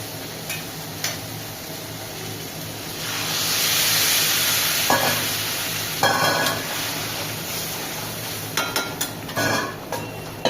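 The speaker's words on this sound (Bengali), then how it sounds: "তো এবার আমি ডালটা দিয়ে দেবো।" Moong dal tipped into a hot pan for a Bengali rohu fish-head dal, a broad sizzle swelling then easing, followed by scattered scraping and tapping as it is stirred, with no talking.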